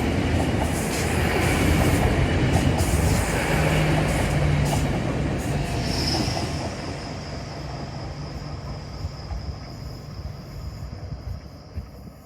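A train rolls past loudly, wheels rumbling and clattering on the rails with a faint squeal, then the noise gradually fades as it moves away.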